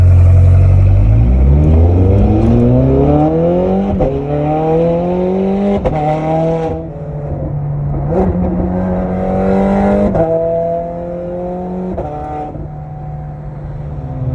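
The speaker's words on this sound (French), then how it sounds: "Je suis dans la Ferrari, dans la 430 Scuderia" A Ferrari 430 Scuderia pulls away hard from a motorway toll booth, its engine note rising loud and close through several gears, each climb broken by a quick shift before the revs settle into a steady cruising drone.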